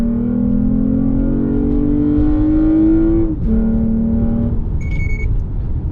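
A heavily modified, tuned Toyota Camry pulls hard on a 0-60 run, its engine note climbing steadily to a peak, dropping sharply at a gear change, then pulling again. It is loud and sustained from inside the cabin, with a brief electronic beep near the end.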